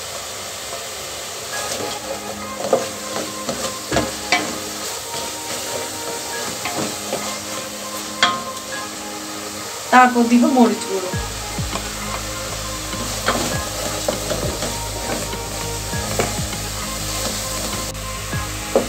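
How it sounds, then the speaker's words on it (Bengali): Spices frying and being stirred in a pan for a vegetable biryani made with winter vegetables, giving a steady sizzling hiss with scrapes and clinks; the frying grows louder and denser about halfway through, and a voice speaks briefly. "মশলাটাকে আমি 2 মিনিট ভাজবো।"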